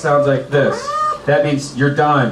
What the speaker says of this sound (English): You'll hear a cat sound at 1 minute.